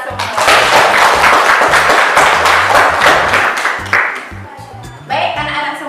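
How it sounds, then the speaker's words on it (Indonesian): A classroom of children applauds together at the close of a lesson, a dense, loud burst of clapping that carries for several seconds and briefly dips before picking up again, with voices talking over it. "Tepuk tangan untuk kita semua."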